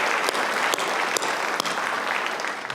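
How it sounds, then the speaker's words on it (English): Commencement audience at a graduate ceremony breaks into a steady, dense round of applause, close and full, with a few sharper individual claps standing out throughout the nearly three seconds. "One more round of applause, please"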